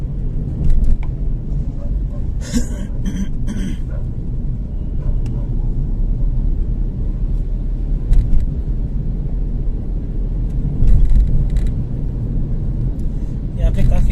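Heavy bumper-to-bumper morning traffic in Delhi makes a dense, continuous low road rumble of idling and creeping vehicles, broken by a few brief, sharper bursts of nearby noise.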